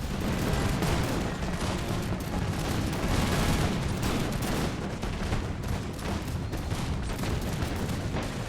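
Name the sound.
musket volleys in American Revolution video game battle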